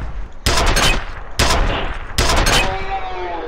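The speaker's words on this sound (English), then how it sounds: "Is this a bolt gun?" Three loud, close bursts of bolt-gun fire from the first-person shooter F.E.A.R., each a sharp blast with a ringing tail, evenly spaced about a second apart.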